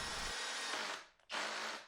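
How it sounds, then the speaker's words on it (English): An Erbauer drill driver bores into fairly hard brick, its motor whining loudly and steadily, briefly cutting out before spinning back up at full speed, heard close and alone. "the drill driver performed admirably drilling into reasonably hard brick"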